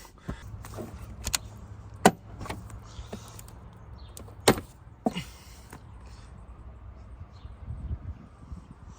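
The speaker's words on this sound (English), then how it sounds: "First thing I'm going to do is change the air filter on it right now" Plastic clips and latches snap open on a car's air filter housing: a few sharp, close clicks and knocks spaced over several seconds, with quieter handling rattles between them.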